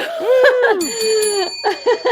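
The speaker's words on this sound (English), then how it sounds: "That's worth a couple of bell rings" A bell rings a couple of times during an interview, bright ringing tones with a lingering, slowly fading ring, mixed with laughter and chatter close by.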